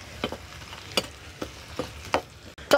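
Chilli fries in oil with turmeric, coriander powder and garam masala in a pan, a low sizzle marked by several sharp spatula scrapes spaced about half a second apart, close and alone without speech.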